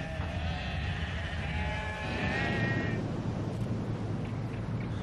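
Sheep bleat repeatedly in cool, dry rough upland grazing country, their wavering cries loud and close for the first three seconds before fading into a steady low rumble of wind or ambient noise.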